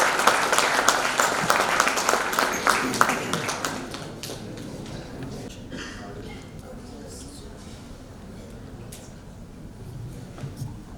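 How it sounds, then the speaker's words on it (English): An audience at a VLSI technology conference welcomes a speaker with a loud burst of clapping that tapers off after a few seconds, leaving scattered claps and room noise. "So with a big round of applause, can I invite Prabhanjan Moleyar for the talk?"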